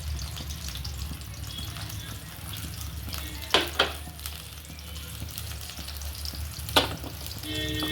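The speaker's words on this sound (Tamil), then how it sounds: "சூடானதும் சின்ன வெங்காயம் போட போகிறோம்." Small shallots frying in hot oil for mutton biryani, a steady low sizzle with a few sharp hissing bursts and clatters as ingredients go in.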